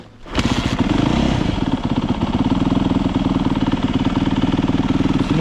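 A carbureted motorcycle engine with the choke on fires up after a brief quiet moment and settles into a loud, steady, rapid, pulsing idle that carries on without a break.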